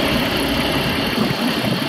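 A 4-litre V6 idles in a Chrysler Town & Country minivan, heard up close as a continuous mechanical whir with a faint clicking texture over a low rumble, unbroken and without speech.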